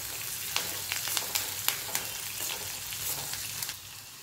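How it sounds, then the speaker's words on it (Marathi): Onion and dal sautéed in a pan produce a continuous sizzle, broken by quick scraping stirs that come in a loose, repeated rhythm, close and moderately loud. "आता मी इथे थोडासा साईडला कांदा ओढून घेतलेला आहे आणि यामध्ये छान अशी परतून घेणार आहे।"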